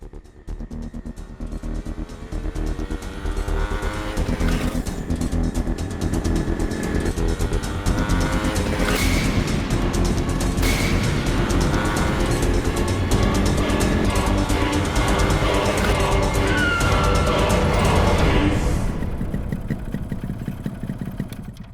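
Motorbike riding along, a steady loud engine drone with rising and falling revs and clattering road noise throughout, close and continuous.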